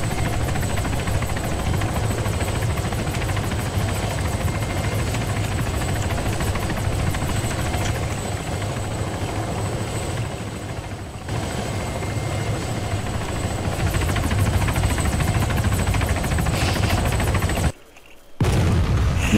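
A helicopter in a video game gives a steady loud rotor drone that fills the whole stretch, with scattered thumps and shots mixed in and a brief cut to near silence near the end.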